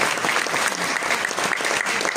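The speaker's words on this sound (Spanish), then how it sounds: "Ahí está Lilian Hilda Serrano, para quien les pido un fuerte aplauso también." An audience in a film discussion event applauds, dense sustained clapping close and even throughout, with no talk over it.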